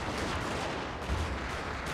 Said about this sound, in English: Cannon's doing a good job of suppressing things that come to threaten though.